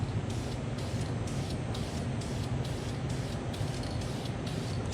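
Spray paint hisses continuously from an aerosol in light coats across a car engine bay during an EF Hatch K-swap build, with a close, steady rushing spray that pulses slightly as the can sweeps back and forth.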